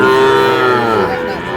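A single drawn-out moo from a Sahiwal calf at Ambari cattle market, Dinajpur, Bangladesh, loud and near, sliding down in pitch and fading out, with no talking over it.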